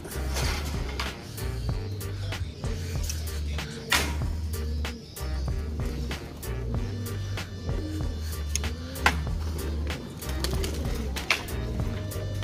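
Pigeons coo in a steady low repeating pattern close by, with sharp clicks and fluttering knocks scattered throughout on an overcast, drizzly day.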